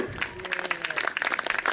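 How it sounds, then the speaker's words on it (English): Audience applause at a birds of prey display at an agricultural show: a dense burst of clapping from an outdoor crowd, moderately loud and steady for under two seconds. "Give it a clap, well done."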